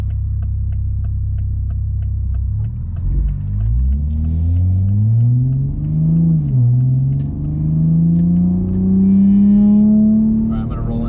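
A 670-wheel-horsepower 2020 Toyota Supra accelerates hard from a deep idle-like rumble, its engine note climbing steadily in pitch through a gear change, loud and close, with voices faintly audible alongside.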